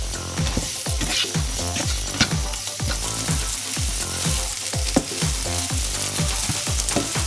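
Onions cook in butter in a pan with a steady, close sizzle, broken by repeated rhythmic clinks and scrapes of stirring throughout.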